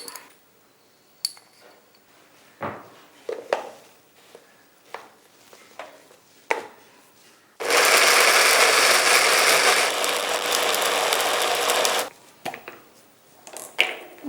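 Mixer grinder blending elephant foot yam chutney in a kitchen, a loud steady whirring burst of about four seconds between quieter clinks and knocks of the jar and utensils.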